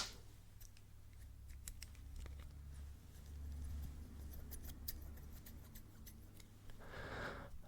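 Small scissor snips in a quiet ASMR setting, a steady run of crisp close clicks and cuts repeating over several seconds against a low hum.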